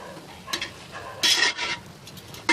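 Chopped tomatoes being fried and stirred in a pan with ginger-garlic paste, soft scraping and brief bursts of sizzling, moderately close, with no talk.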